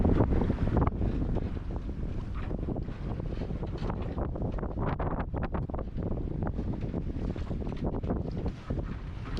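Wind roars over a sailboat's mast and rigging while under way, a loud, constant gusty rush with buffeting bursts close to the microphone and no voices.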